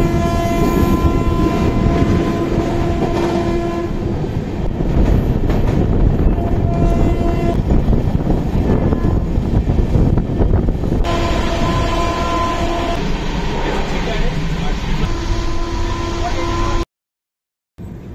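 The Sealdah Humsafar Express runs along the rails toward Naihati, its loud continuous rumble and rhythmic clatter heard from onboard, a horn tone sounding partway through, with a passenger speaking over it before a brief dropout.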